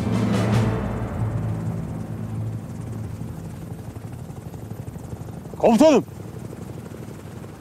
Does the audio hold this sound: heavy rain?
no